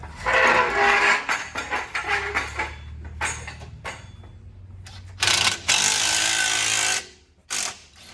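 A power tool rattling loose the bottom bolt of a rear shock absorber on a Chevy Suburban, loud buzzing impact bursts that stop and start several times, close up with no talking.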